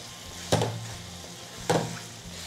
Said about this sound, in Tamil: கரண்டி வந்து மஞ்சள் கருவில் படாத அளவுக்கு அப்படியே லைட்டாக இப்படி கிளறி விடுங்க